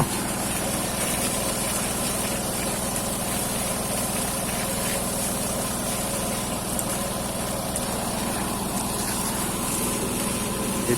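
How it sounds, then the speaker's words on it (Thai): A small water pump engine hums steadily and evenly nearby, a constant drone used while washing a rice harvester, with no voices. "ใส่เครื่องสูบน้ำสูบล่างเอา"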